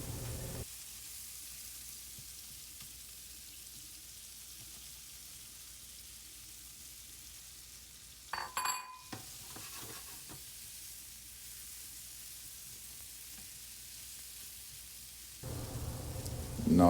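Mushrooms simmer in unsalted butter in a pan, a soft steady sizzle close by that is briefly broken by a stirring clatter midway and grows louder again at the end.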